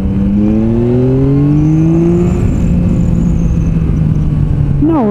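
Yamaha Tracer 9 GT Plus motorcycle accelerating in D mode 2, its engine rising steadily in pitch as it pulls, loud and close with constant road and wind rumble underneath.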